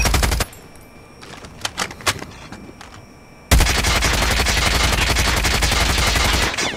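Kilo assault rifle in Call of Duty Mobile fires a few scattered shots, then breaks into a loud, sustained rapid-fire burst lasting several seconds, close and dominant with no talk.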